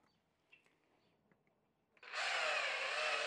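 After a few quiet taps and clicks, a power drill suddenly whirs to life, loud and steady, close by.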